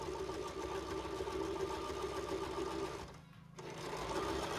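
A sewing machine runs steadily while hemming a pair of pants, a close, continuous mechanical hum that briefly eases off near the end before picking back up.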